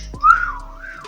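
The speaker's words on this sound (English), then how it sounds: "I suck at whistling" A single brief whistled tone rises and then wavers unsteadily, close and fairly loud, with no other sound around it.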